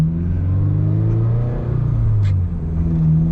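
A low-slung Nissan GT-R sports car goes by, its engine a steady, deep rumble with layered low droning tones that swell slightly. No one speaks.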